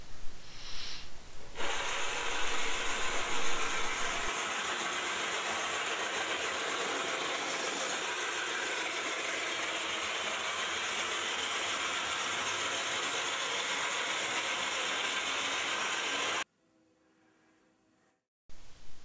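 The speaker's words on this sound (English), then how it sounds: "Makes the distinctive motor noise of toys of that period." A battery-powered 1963 Ideal Dick Tracy Copmobile toy car motor whirs loudly and continuously with a gritty, buzzing mechanical rattle, running steadily for about fifteen seconds before cutting out, with a brief click of restart at the end.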